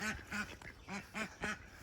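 Several loud duck quacks in quick bursts, five or so harsh nasal calls close by with short gaps between them.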